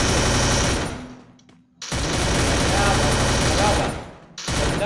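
Dense, rapid bursts of gunfire in the video game Free Fire Max fill the clip, loud and sustained, with a brief lull in the middle before the shooting resumes.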